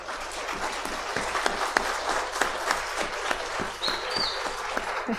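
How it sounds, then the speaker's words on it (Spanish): An audience at a talk applauds in a continuous, fairly soft wash of clapping, with a low steady hum underneath and a brief high chirp near the end. "Por favor, Wanda, un aplauso."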